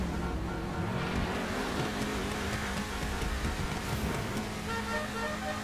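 A Ferrari in GTA 5 revs its engine, a loud, continuous mechanical roar with rising and falling pitch that holds steady for several seconds, alone with no talk.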